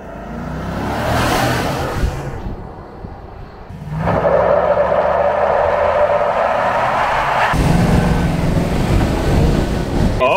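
A Chevrolet Silverado 1500 ZR2 Bison pickup's 6.2-liter V8 roars through a 0-60 acceleration run, loud and sustained, with breaks and a rising pitch as the gears shift.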